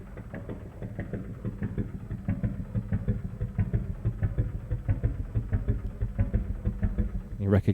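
The 'Motorcycle 1' synth sample on UVI Emulation One, the opening sound of a well-known song, putters in a rapid, rhythmic engine-like throb that swells slightly and ends with a sharp upward sweep.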